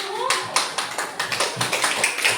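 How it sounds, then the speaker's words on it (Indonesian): Schoolchildren in a primary classroom clap for a group that just presented, a brisk burst of sharp, close hand claps in an uneven rhythm, with children's voices mixed in. "Beri tepuk tangan untuk kelompok 1"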